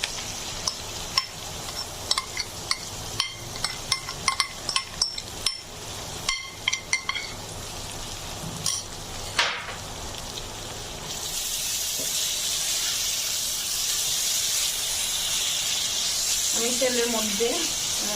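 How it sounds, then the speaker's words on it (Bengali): Marinated lentils hit a pan of browned fried onion and garlic, a loud broad sizzle that swells and holds steadily after earlier clattering and stirring, with a voice speaking near the end. "এবার আমি দিয়ে দিচ্ছি ম্যারিনেট করে রাখা ডালগুলো"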